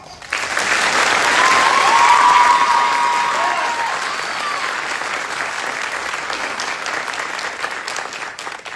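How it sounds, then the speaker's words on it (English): Sustained applause from a large crowd at a military graduation for drill sergeant course awardees, a dense wash of clapping that swells in the first seconds and then holds steady throughout. "Please join me in a round of applause for the awardees."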